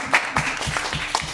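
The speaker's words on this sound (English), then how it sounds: "Thank you for applauding, Meg." Brief, faint applause in a room during a podcast recording: a few scattered, uneven claps with a soft murmur under them, over in about a second.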